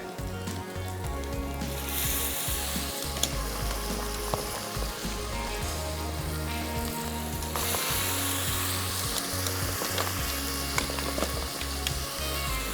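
Goat trotters (paya) fry in a pot with a continuous crackling sizzle and occasional stirring scrapes, moderately loud and close throughout.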